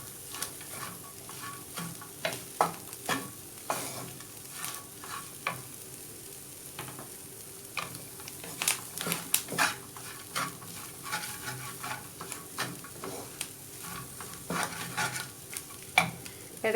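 Finely chopped garlic, ginger and green chillies are stir-fried in a pan over a steady sizzle. Irregular scraping and clinking stir strokes come close and clear throughout, with no talking.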